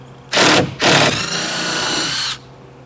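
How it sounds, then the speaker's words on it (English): A power tool drives out 5/16 screws from a wooden crate, giving two short whirring bursts followed by a longer high-pitched spin that stops abruptly. "And now we'll take out the 5/16 screws."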